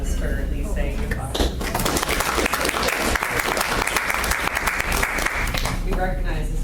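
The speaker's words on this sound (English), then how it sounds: "Please join me in an applause for Elise saying goodbye." An audience at a committee meeting applauds in a steady, dense wash of clapping that carries through the whole stretch, with a voice heard briefly over it.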